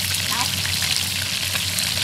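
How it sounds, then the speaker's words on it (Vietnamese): Rat pieces fry with eggplant in hot oil in an open field, a dense, continuous sizzle and crackle filling the space up close with no talking. "Chuột bữa nay anh Ốc Hoành làm cái món chuột chiên suốt cà nha cả nhà ơi."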